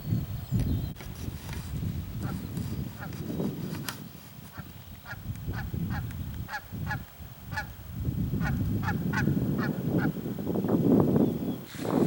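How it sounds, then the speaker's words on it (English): Canada geese honk repeatedly outdoors, a series of sharp calls rising and falling in clusters over a steady low rumble of background noise, with several birds calling close together. "Canadian geese right there"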